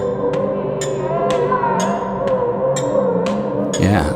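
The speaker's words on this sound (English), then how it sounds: "that's the vibrato with the added warble" Electric guitar run through vibrato with added warble, held notes bending and wobbling in pitch over a slow pulsing tick, close and moderately loud, ending with a brief swirl.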